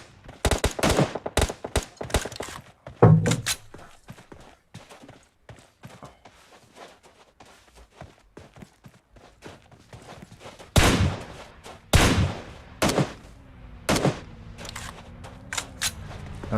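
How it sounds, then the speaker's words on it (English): M4 rifle shots ring out in single spaced taps and short clusters during an airsoft or milsim game outdoors, sharp and fairly close, with gaps between bursts and more fire later. "putting in a couple of rounds there with the M4 tap firing"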